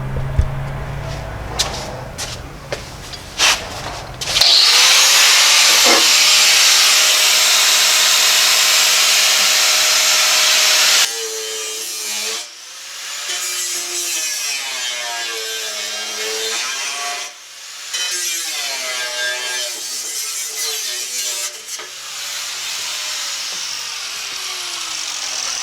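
A power tool cuts steel out of a C5 Corvette body during a C8-style conversion build, with a loud steady grinding whine for several seconds, then softer intermittent cutting and scraping passes that rise and fall.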